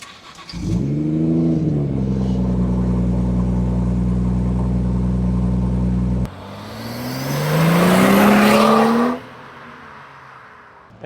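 BMW F30 340i engine heard up close, with a steady mid-pitched idle-like drone that then swells into a louder rising rev, with rushing intake and exhaust noise before dropping off abruptly, no talking over it.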